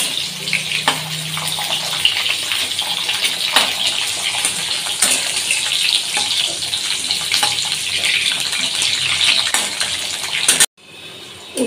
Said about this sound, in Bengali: আগে ভেজে নিই উচ্ছেটা লাল করে ভেজে তুলে রাখবো।